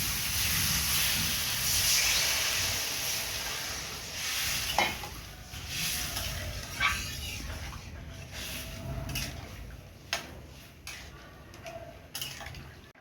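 Curry broth with potatoes boiling in a pan for an egg and potato curry, a close hissing bubble that fades over time, broken by sharp scrapes and knocks of a spatula, with no talking.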